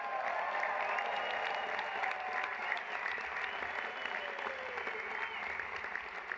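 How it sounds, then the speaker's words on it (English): Sustained applause from a large audience at a charity dinner in New York, an even, continuous roar of clapping heard from some distance. "Can we have a round of applause for First Lady Melania Trump?"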